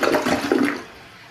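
A Project Source Pro dual flush toilet on its 1.1 gallon setting gives a loud, close rushing flush that swirls for about a second before quickly tapering off, with no talking.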